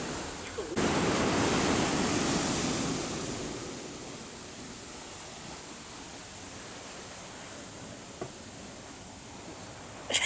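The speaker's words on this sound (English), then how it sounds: "see how the waves are small now?" Small ocean waves breaking on a skimboarding beach, a loud wash of surf that rises at first, then settles into a steady, softer rush with wind.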